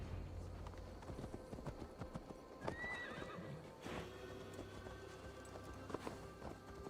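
Horse hooves gallop in quick, steady rhythm through a Gloucestershire forest in the video game Assassin's Creed Valhalla, soft and low in level, with a brief whinny partway through.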